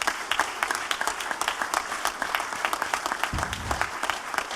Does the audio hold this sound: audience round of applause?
yes